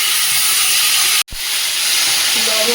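Water poured into a hot cooking pan sets off a loud, broad steamy hiss that breaks off for a moment and then resumes at full strength close by.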